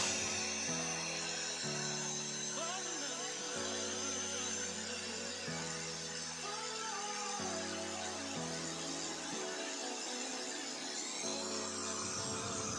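A Hasston ART3150-001 angle grinder running at full speed with no load gives a steady, loud, high-pitched whine with a continuous motor drone throughout.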